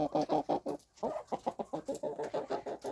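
Backyard chickens clucking inside a winter coop, a steady run of close, rhythmic clucks with a brief pause, loud and alone without talk.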